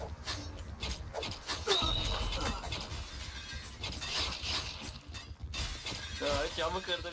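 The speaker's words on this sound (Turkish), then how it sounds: "Camı kırdı, Oğlum benim camı kırıyor." Window glass breaks with loud crashes in the online shooter Point Blank, mixed with in-game gunfire and effects, while voices talk over the action.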